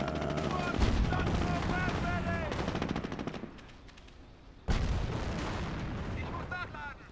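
Rapid bursts of video game gunfire, machine-gun rattle and heavier artillery-like booms, fill the mix loudly throughout, with a brief lull before the shooting resumes, while players talk over it.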